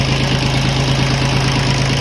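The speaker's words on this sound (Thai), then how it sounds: "เครื่องยนต์นะครับ" Yanmar YM2001D tractor engine idling steadily up close, a continuous loud low hum with a strong fixed drone, no talking.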